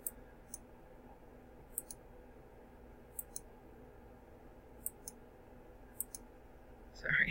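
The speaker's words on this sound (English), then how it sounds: "right click" A computer mouse gives sparse, sharp single clicks at irregular intervals, about a dozen in all, faint against quiet room noise with a brief louder rustle at the very end.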